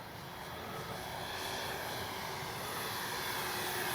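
An RC B-25J model airplane makes a gear pass with its landing gear down, a steady, loud twin-engine drone that swells slightly as it flies past.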